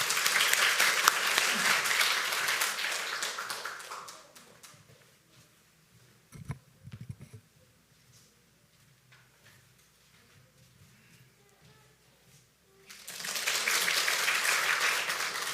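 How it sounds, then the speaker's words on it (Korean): A church congregation applauds to welcome a church elder forward to give a short testimony during a Sunday new-family service; steady clapping fills the room, fades into a quiet stretch with a few shuffles, then a second full round of applause swells. "박수로 모시겠습니다."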